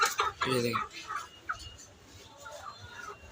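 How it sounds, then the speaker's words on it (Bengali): Hill chickens and roosters at a market give a few close clucks and squawks, loudest early, then fade to quieter crowd murmur with faint bird calls. "অনেক সুন্দর মোরগ দেখেন"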